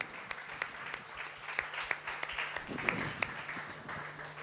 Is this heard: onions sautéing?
no